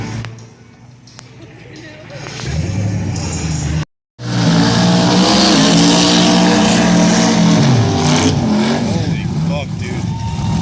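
Race car engine revving hard at a drag-style race event, wheels spinning without traction; loud, sustained roar rising and falling, with excited talk nearby.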